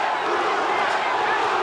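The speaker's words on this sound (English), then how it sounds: "The crowd starts to chant again." Boxing match crowd roaring in a dense, steady wall of chanting and cheering voices, loud and continuous, with no single voice standing out.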